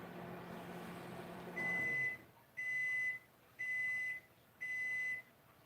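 Four evenly spaced electronic beeps, high-pitched and steady, each lasting about half a second, following a stretch of low background noise.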